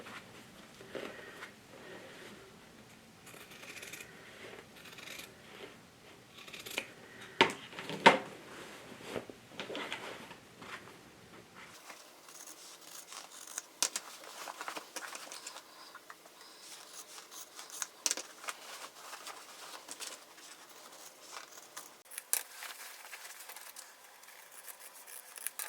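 Scissors snip along a jacket seam in a quiet room, producing a string of soft, irregular crisp cuts and fabric rustles, faint and close.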